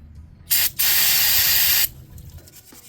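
Cleaner is sprayed onto grime on a Hydro-Gear transmission drive in two close, loud hissing bursts: a brief spritz, then a longer continuous spray.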